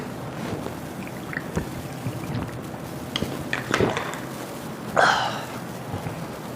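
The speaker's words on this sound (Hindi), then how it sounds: "पानी पी लूं, थोड़ा प्यास लग रही है, 1 मिनट।" Someone pauses indoors to drink water, with soft container handling, a faint clink and a brief splashy pour or sip burst near the end. Quiet and close, with no talking.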